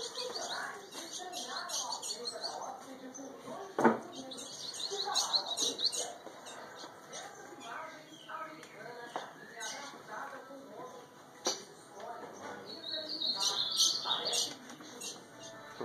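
Blue grosbeak songbirds of the Mossoró coronel type chirp and trill in quick bright bursts, close and fairly loud, with a sharp call near the start and another lively flurry toward the end, while someone talks over them.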